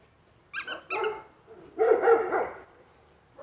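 Dogs bark while playing with a red ball: two quick close barks, a short pause, then a longer, louder cluster of barking and yelping, with no talk over it.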